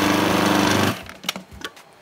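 A blender whirs loudly, mixing avocado hummus with tahini, a steady motor drone for about a second before cutting off, followed by a few small clinks and knocks.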